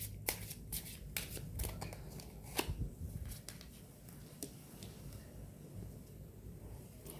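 Tarot cards being shuffled close up, quick papery riffles and taps in irregular bursts, fading to a quieter hush toward the end.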